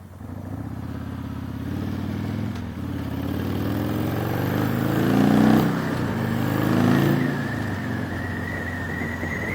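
A 2006 Harley-Davidson Sportster 1200 motorcycle is ridden on the street, its engine giving a steady low rumble that swells as it accelerates, with wind noise, heard continuously from the rider's position.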